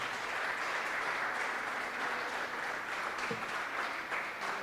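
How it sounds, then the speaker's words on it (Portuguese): Church congregation clapping during a baptism service, a dense, even wash of applause from many people, moderately distant and steady throughout without a break. "Dê um aplauso ao Senhor em nome de Jesus."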